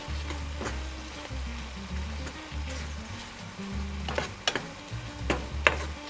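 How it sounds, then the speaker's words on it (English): Stirring chopped egg and cornstarch in a frying pan, a soft steady sizzle with scraping strokes and light clinks of the utensil against the pan, close and fairly quiet. "And then we stir it."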